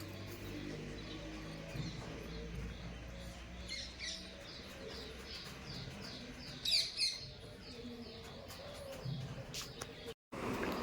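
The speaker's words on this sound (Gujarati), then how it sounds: "કેવો સરસ મજાનો પક્ષીઓનો અવાજ આવે છે" Birds chirp and coo intermittently in the open air at a village temple, fairly faint, with a few brighter calls rising over a quiet background.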